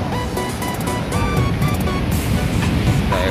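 Surf rolls in on the sandy beach at Pantai Omah Bubrah during surf fishing, a steady, loud rushing wash of waves with wind buffeting the microphone and no one speaking.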